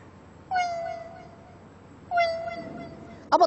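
A human voice imitates a cat sitting beside women cutting fish: two drawn-out plaintive meows, each trailing off, followed by a brief sharper sound at the end, close and clear.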